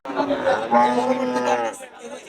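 A dairy cow at a cattle market lets out one long, loud, drawn-out moo close by, which fades into quieter background chatter.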